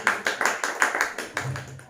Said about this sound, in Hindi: तो चलिए हम एक बार जोरदार अपने प्रभु यीशु मसीह के लिए तालियां बजाएंगे